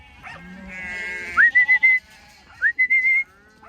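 Sheep and cattle on an Australian sheep farm while ewes are drafted off their lambs: a low moo and bleating, then sharp rising whistles in two quick bursts, close and loud.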